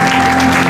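A church audience at a wedding celebration breaks into loud, dense applause and cheering for the Lord, a brief, continuous burst of clapping close at hand.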